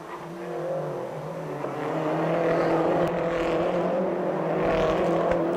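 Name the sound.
Peugeot RCZ race cars driving through a chicane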